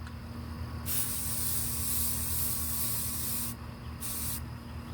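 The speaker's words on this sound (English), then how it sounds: "spray it, flip it around, spray the bottom" Spray primer hisses from a can onto a Shark City Ozark model kit in two bursts, a long steady spray followed by a shorter one after a brief pause, close and fairly loud with no talking.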